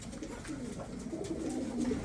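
Kanat breed pigeons coo softly and repeatedly in a loft, a low, continuous burbling that swells slightly toward the end, with no talking.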